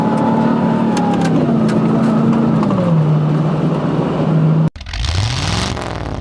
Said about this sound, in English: Now I'm doing figure 8 donuts.